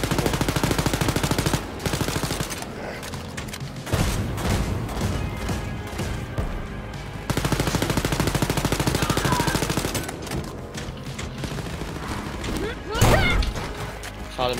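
Gunfire in the video game Wolfenstein: Youngblood, dense and continuous, with rapid automatic bursts and sharp shots crowding the whole stretch while a voice talks now and then underneath.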